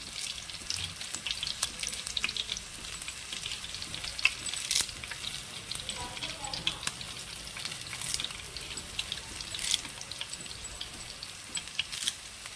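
Curry leaves frying in hot oil in a pan, giving a steady close sizzle with scattered crackles and spits throughout and no voices.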